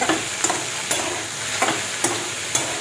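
Okra with salt is stir-fried in a pan, a spoon scraping and tossing it in regular strokes about every half second over a steady sizzle, close by and with no talking.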